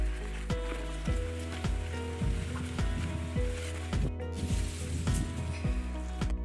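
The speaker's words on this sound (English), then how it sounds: "it's actually raining now" Steady rain falling on a surface, a dense crackling patter with sharp louder drips and taps mixed in, fairly close and continuous.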